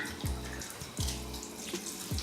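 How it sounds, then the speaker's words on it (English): Tap water runs steadily while curly hair is wetted, with three short splashing bursts spaced evenly over a constant low rush; close and fairly loud, with no talking. "keep adding water."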